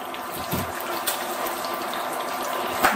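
Tap water runs steadily into a cooking pot for cut asparagus, a continuous close splashing hiss with a few small knocks and clinks on top, no talking.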